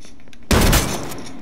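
A single loud, close gunshot in the survival shooter H1Z1 breaks out of near silence, then its echo and tail fade over the next second.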